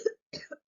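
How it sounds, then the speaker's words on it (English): Two or three short, close coughs in quick succession, dry and abrupt, with a brief silence between the first and the rest. "So I'm about to cough."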